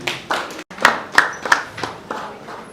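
A congregation at a Kinshasa church service claps to welcome the pastor, loud, close, rhythmic hand claps in separate sharp beats rather than a blended ovation.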